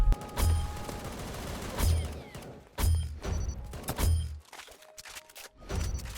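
Rapid gunfire in the Aimblox video game, heavy booming bursts repeating every second or so, loud and close, alone without talk.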